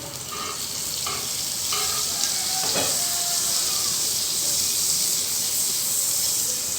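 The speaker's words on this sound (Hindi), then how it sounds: "अब और हम फ्राई करने लगे हैं" Butter sizzles and fries in a very hot pan for egg toast, a steady bright hiss with a few soft scraping stirs near the start and no talking.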